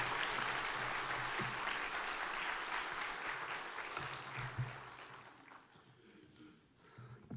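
A church congregation at an Easter special dawn service claps together in sustained, dense applause that gradually thins and fades out toward the end.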